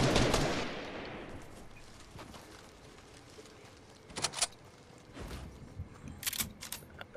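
Gunfire from the Fortnite video game in a trios match: a sharp loud shot opens, then a long decaying tail and a few scattered quieter shots and bursts later on.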